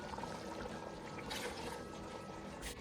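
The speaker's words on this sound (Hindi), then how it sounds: "बाकी सादा पानी डालूँगी" Plain water pours into a pot of chickpea pulao rice, a steady, faint rushing and splashing wash with no talk.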